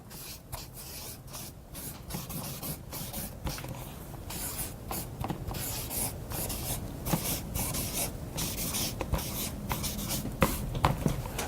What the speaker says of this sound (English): But I'm going to write in all caps.